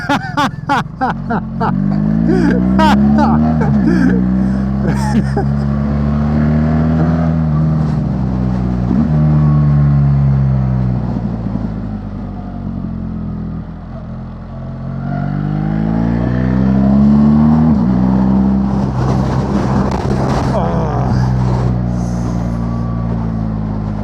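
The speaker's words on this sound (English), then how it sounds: "I'm just getting blown by the wind." Broad, steady wind roar with engine drone while riding a BMW R1300GS motorcycle on a long tour, loud and continuous, swelling and easing in waves over the whole stretch, with a low rumbling tone underneath.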